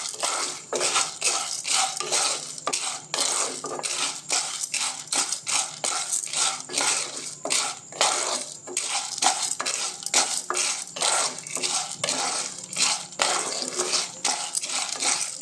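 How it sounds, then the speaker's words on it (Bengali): Popcorn kernels being stirred in hot oil, a close, busy run of rattling, scraping clatter like hard grains and a utensil against a metal pot, repeating steadily throughout with no talk. "এবার আমি তেল গরম হয়ে গেছে, এবার আমি ভুট্টাটা দিয়ে দিচ্ছি। ভালো করে নেড়ে নিচ্ছি।"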